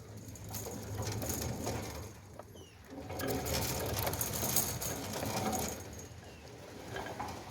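Centurion D5 Evo Smart gate motor driving a gate along its rack and pinion, open and closed, a steady mechanical whirring and rattling grind that dips briefly and resumes, with pigeons cooing in the background.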